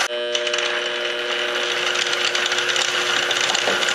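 A speed-controlled miter saw spins at about 500 RPM, a steady whirring motor with a dense metallic whine and faint rattle holding level for the whole stretch, close and fairly loud with no talk.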